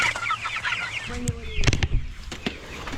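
Meat chickens clucking and calling inside a chicken tractor on a rainy morning, a scattered run of close fowl calls with a few sharper honk-like notes and soft background noise.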